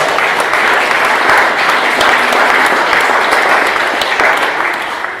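An audience applauds after a talk at a zero waste sustainability event, a dense, steady wash of clapping from many hands that holds throughout and thins slightly at the end.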